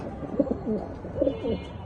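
A male White Beauty pigeon coos up close in two deep, throaty bursts of rolling notes, alone against a quiet background.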